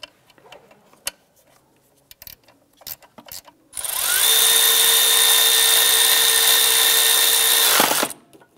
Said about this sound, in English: go ahead and use your gear wrench or your ratchet wrench or swivel with socket to go ahead and snug that down.